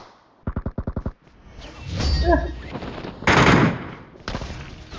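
Bursts of gunfire in the battle royale game PUBG: a rapid string of about seven sharp shots early on, followed by louder, denser firing and impact noise, with no voices over it.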